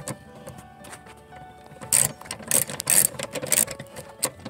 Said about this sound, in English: And then you remove the screw.